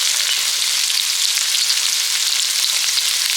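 Chopped onion, green chili and ginger sizzle in hot oil in a pan, making a loud, bright, even crackle that runs without a break from start to finish, with no voices.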